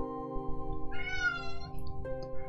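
A pet cat gives a single drawn-out meow, close and clear, over quiet background music from a game.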